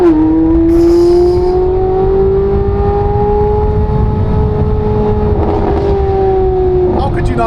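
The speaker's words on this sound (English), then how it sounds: "Between the sound of that engine with the Concept 841 headers, the Soul Cats, the AWE exhaust" Corvette C8 Z06 engine fitted with headers and an AWE exhaust, a loud steady drone that holds one rising then level pitch for several seconds, with a slight change near the end.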